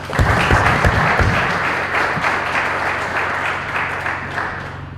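Audience applause for a contestant named Jordan after he wins a round and advances to the grand final of a competition in Lubumbashi; steady, dense clapping throughout, loud at first and gradually thinning, with low hum beneath.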